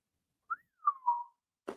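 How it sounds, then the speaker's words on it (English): A person whistles a few short, clear tones, a brief chirp then two longer sliding notes, alone in quiet, followed by a short soft noise burst at the end. "It's the first time I whistled since my wisdom teeth."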